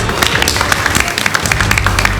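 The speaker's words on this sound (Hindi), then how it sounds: "तालियां तो बजाई दीजिए सभी बच्चे" Children clapping in applause, a dense, steady patter of many small hand claps at close range throughout, with no pauses.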